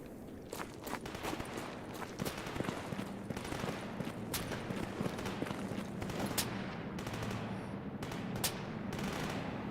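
Distant gunfire in S.T.A.L.K.E.R. GAMMA crackles as sharp, scattered shots and bullet cracks over a constant rustling background, fairly faint and irregular throughout.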